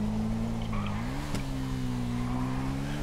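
A motorcycle engine drones steadily in GTA 5, its constant tone dipping and climbing slightly as the bike shifts speed, with a brief sharp click partway through.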